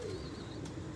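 Pigeons coo in one short, soft call over a muffled, steady background hum.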